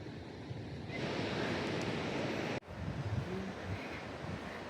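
Ocean surf washes onto the shore at Pachena Bay, a continuous hissing wash mixed with gusty wind buffeting the microphone, briefly cutting out midway before resuming.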